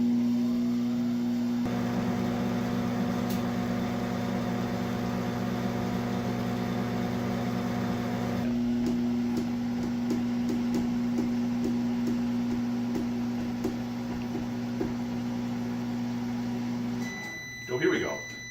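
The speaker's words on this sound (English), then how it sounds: "If you don't have an expensive kiln at home, you should be able to just use your microwave" A microwave oven hums steadily with a droning tone while firing a clay project in place of a kiln, loud and continuous, its pitch shifting partway, ending with a short clatter.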